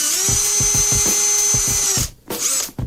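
A power drill whirs loudly at high speed for about two seconds with rhythmic grinding pulses, drilling a starter hole during a Foxbody Mustang cylinder head upgrade, then stops and briefly spins up again.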